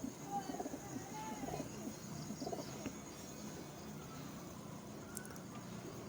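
A senior racing pigeon coos in soft, low, repeated phrases over a quiet outdoor background with faint chirps and a distant murmur.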